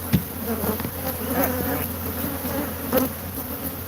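Honey bees swarm around a hive removed from inside a washer and dryer, a dense, steady buzzing drone that sounds close and loud throughout, with a few individual bees flying past near the listener.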